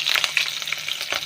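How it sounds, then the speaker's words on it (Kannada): Green chillies frying in hot oil, a close, steady sizzle broken by crackles and spits. "ಇದನ್ನು ಸ್ವಲ್ಪ ಟೈಮ್ ಆಯಿಲಲ್ಲೇ ಫ್ರೈ ಆಗಲಿ"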